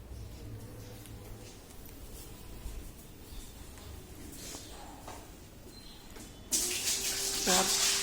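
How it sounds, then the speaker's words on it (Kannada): Water being poured runs and splashes in a steady stream, starting abruptly near the end and growing louder over a quiet background. "ನೀರು ಹಾಕ್ತಾ ಇದ್ದಾರೆ"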